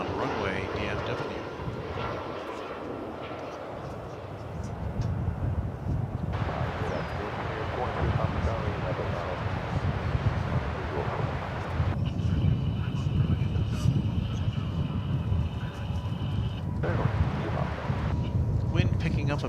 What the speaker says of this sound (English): It's an Airbus A320 and it's coming in on runway 18 right.